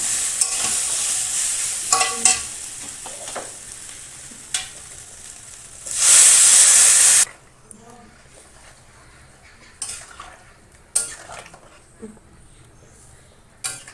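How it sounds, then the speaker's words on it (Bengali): Water poured into a pan of sizzling vegetarian soybean curry with potatoes makes a loud burst of hissing sizzle for about a second, after softer stirring and utensil clinks that continue with occasional scrapes. "এবার জল দিয়ে দেব"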